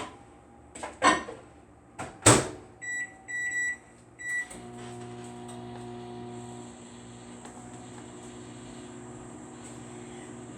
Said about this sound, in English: we have to microwave for 1 minute